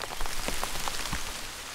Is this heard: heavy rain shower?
yes